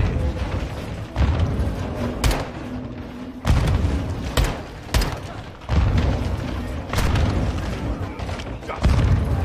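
Grenade blasts and gunfire in the Modern Warfare 2 campaign: a string of heavy booming explosions and sharp shots at irregular intervals, loud and close, separated by short lulls.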